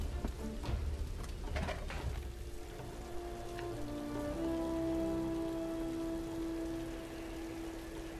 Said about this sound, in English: Will this rain it never end?